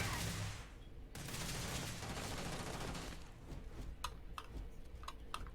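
Video game gunfire as an AI companion opens up, a dense rattling burst at the start, then a sustained noisy stretch and several sharp isolated shots near the end.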